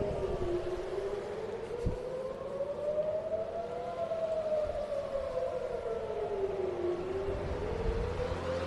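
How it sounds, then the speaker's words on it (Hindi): Civil defense air raid siren wailing over Tel Aviv, a single slow rising and falling tone carrying from a distance over steady background noise, with a brief thump partway through. "अभी सायरन बजी है"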